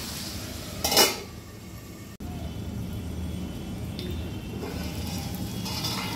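A metal lid clatters onto a pan of half-cooked capsicum and chicken for restaurant-style chilli chicken, one bright clinking burst near the start, then a low steady simmering hiss.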